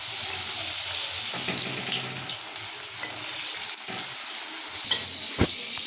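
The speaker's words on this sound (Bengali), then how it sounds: "এগুলো খুব হালকা আঁচে ভাজতে হবে।" Gokul pitha, sweet Bengali fritters, frying gently in oil over low heat, giving a steady close hiss and crackle of bubbling oil throughout, with a few faint clinks of a utensil near the end.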